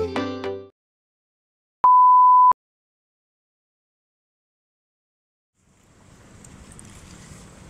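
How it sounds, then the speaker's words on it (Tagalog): High sea waves at Manila Bay Walk: a steady wash of surf and wind noise swells in over the last two seconds, following a brief electronic beep and a short burst of talk at the start. "So sobrang taas ng dagat ngayon, no, dito sa Manila Bay Walk."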